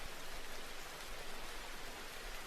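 Steady, dense hiss of heavy rain pouring down in a spooky storm scene, unbroken and fairly faint throughout, with no voices.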